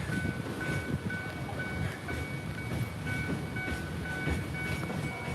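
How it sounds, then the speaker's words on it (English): An old freight train hauling coal rolls past with a steady, continuous rumble of wagons and faint metallic squeals, heard from a moderate distance with no talking. "Old school train carrying coal to heat the city."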